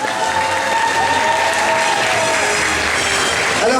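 A thunderous round of applause greets the jury at a gaming and pop-culture festival awards ceremony in Vesoul, a dense, steady roar of many hands with some crowd noise mixed in, loud and continuous throughout.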